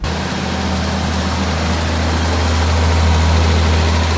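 A V8 diesel engine in a row crop tractor idles with a steady, deep, loud rumble and constant vibration, close by, with no other sounds.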